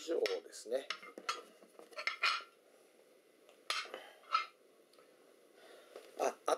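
Outdoor camping cookware, pans and a metal Sierra cup, clinks and scrapes as they are handled, in light scattered bursts close by over a quiet background with no talk.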